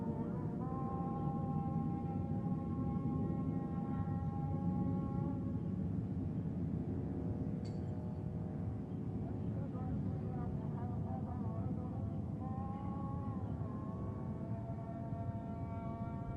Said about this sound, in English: That sounds like a really big plane.